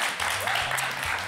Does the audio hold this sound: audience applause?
yes